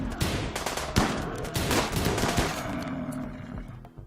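Colonists firing guns in the RimWorld video game, loud rapid bursts of shots in quick succession, close and sharp, thinning toward the end.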